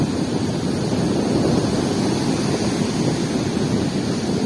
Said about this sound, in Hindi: सुबह सुबह समुद्र के किनारे आकर के